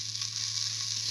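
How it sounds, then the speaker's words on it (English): Garlic going into a hot pan for a black lentil and ash gourd stew gives a steady close hissing sizzle that stays even through its short length, alone and without talk, over a faint low hum. "Now put in the garlic, salt"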